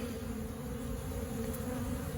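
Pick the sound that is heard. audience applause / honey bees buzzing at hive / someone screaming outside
honey bees buzzing at hive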